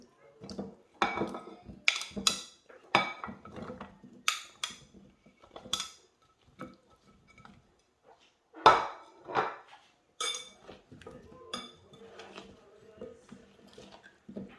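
Vegetables being mixed with a spice marinade in a dish for a chicken tajine make quiet, intermittent clinks and scrapes of a utensil against the dish, with scattered soft taps and pauses between.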